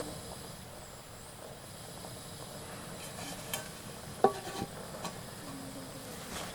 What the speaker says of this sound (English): this is supposed to simmer for 12 minutes